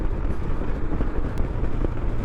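A 2021 Royal Enfield Himalayan motorcycle cruising in fourth gear at about 50 mph on a street, its steady engine drone mixed with constant wind rush, loud and unbroken throughout with no voices.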